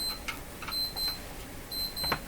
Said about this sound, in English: At 9:45 that alarm goes off in here.